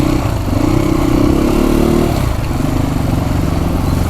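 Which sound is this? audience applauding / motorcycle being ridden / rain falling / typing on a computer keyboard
motorcycle being ridden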